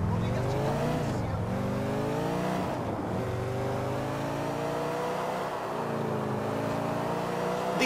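A car in GTA IV drives steadily with a loud, sustained engine drone that rises and dips as it accelerates, with occasional tire squeal, alone without talk.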